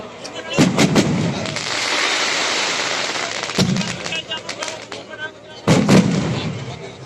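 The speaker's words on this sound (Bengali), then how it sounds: "উৎসব কমিটি আয়োজিত এই আতশবাজি প্রদর্শন" A fireworks display at the Digha Mohona beach sea festival and Ganga puja celebration, with loud booming bursts near the start, middle and end, each trailing into a long crackling, hissing wash.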